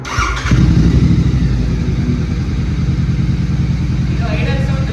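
A GT motorcycle on its stock exhaust starts up and settles into a loud, steady, throbbing idle, close by and continuous through to the end.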